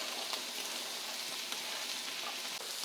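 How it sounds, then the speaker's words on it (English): Peppers, zucchini and the white parts of green onions sauteing in sesame oil, a constant dense hiss of frying, close but low in level, with a few faint taps and no talking. "we're gonna saute up our veggies in that sesame oil."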